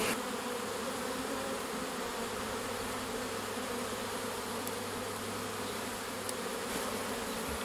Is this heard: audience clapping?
no